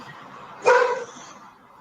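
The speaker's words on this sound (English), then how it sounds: "You hear that dog?" A single dog bark or short yelp bursts out close by, loud and brief, then fades into quiet room tone.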